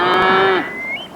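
A cow moos once in a TV advert for heartburn relief, a loud, close, drawn-out low call that rises and thins into a higher trailing note at the end.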